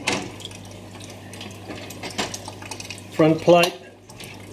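Clock parts from a Japanese 40-day wall clock being rinsed in liquid, with soft sloshing and light metallic clinks of parts handled in a container, a couple of louder splashes near the end, and a voice speaking briefly.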